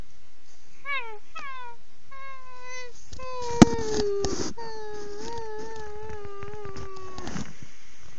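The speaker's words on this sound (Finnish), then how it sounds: "Tyhmä katti." A cat meows repeatedly, a series of short rising and falling cries followed by longer drawn-out wails, close and fairly loud, with a sharp knock partway through and no talking.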